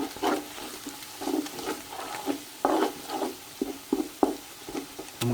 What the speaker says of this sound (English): so I'm going to put my garlic in here. Give it a little mix.